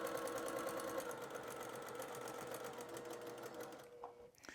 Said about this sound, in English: I'm just going to sew right into this corner.